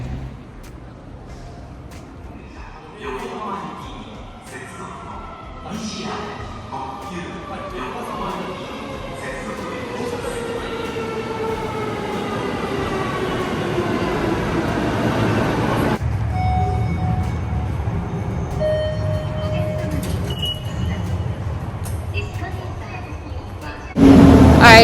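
Train ride in Japan, steady rumbling carriage noise with a long rising whine as the train accelerates, then a sudden shift to quieter rolling and a loud thump at the end; no talk.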